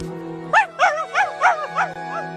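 A dog named Bubba gives about six short, nearby yelping barks in quick succession, each rising and falling in pitch, over a steady low hum.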